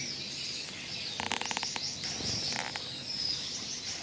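Gouldian finches in a breeding aviary chirp and tweet, quick clusters of bright high calls over a constant background chatter of many birds.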